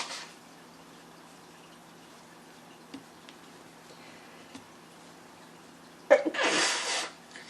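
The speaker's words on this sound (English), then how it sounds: "I don't know why I'm sneezing now." Near the end a single loud, sharp human sneeze bursts out close by, after several seconds of quiet room tone with a few faint ticks.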